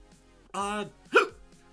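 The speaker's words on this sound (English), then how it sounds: "I really hate these hiccups" Person hiccuping, two sharp voiced hiccup bursts close to the mic amid faint background talk.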